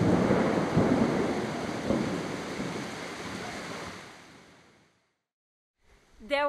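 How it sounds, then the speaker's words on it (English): Heavy rain pours down in a dense, steady roar with a low rumble of thunder in the jungle of Khao Sok National Park, Thailand, fading out before a short tonal sound at the end. "it's pouring rain at the moment and there's thunder"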